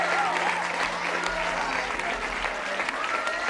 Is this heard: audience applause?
yes